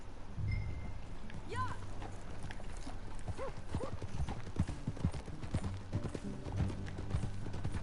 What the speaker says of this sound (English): Qué caballo más raro tiene la Sadie esta, Como quemado